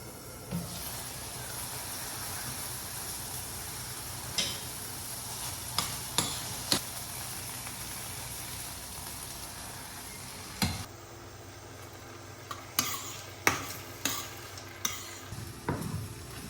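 Garlic fried rice sizzles and is stirred in a pan, a steady frying hiss broken by repeated sharp scrapes and clinks of the utensil against the pan.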